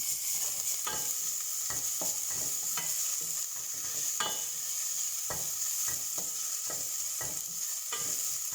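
Garlic, chili and ginger frying in a pan, a constant bright sizzle with a spoon scraping and tapping the pan in a loose, repeated rhythm, close and unbroken by any voice.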